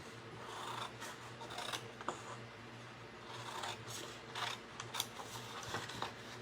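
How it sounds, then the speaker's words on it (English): Scissors slowly cut a painted paper artwork piece out of a sheet, soft repeated snipping and paper rustling close by under a low steady hum, faint overall. "So I'm going to cut this individual piece of artwork out."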